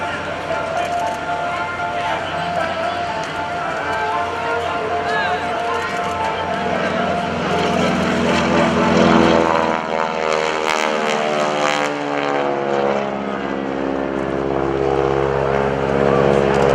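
A T-6 propeller airplane roars past at an airshow, its engine drone swelling loud and close, then sweeping down in pitch as it passes and fades, with an announcer talking over it.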